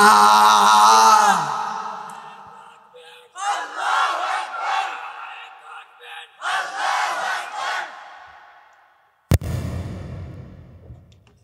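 A large crowd at an outdoor Islamic sermon gathering shouts takbir in loud unison, roaring in several waves with pauses between, followed by a sharp bang near the end.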